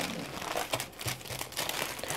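A plastic bag from a parcel being carefully opened, with a steady, close crinkling and rustling that continues throughout, with no voices.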